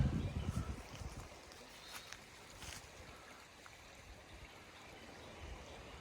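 River flowing beside a forest trail, a soft, steady rush of water in the background with faint crunching footsteps near the start and no talking.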